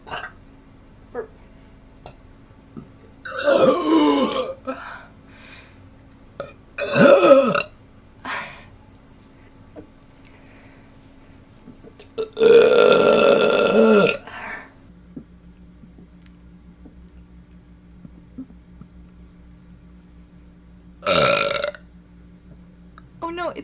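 Loud, close burps from one person come in four separate bursts, a long rumbling one in the middle, spaced by quiet stretches over a faint steady hum.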